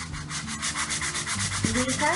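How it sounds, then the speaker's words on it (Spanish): Sandpaper rubs by hand over a wooden apple-shaped chalkboard in steady back-and-forth strokes, close and continuous, with a brief voice under it near the end. "con una lijita, vas a empezar a quitar todas las imperfecciones"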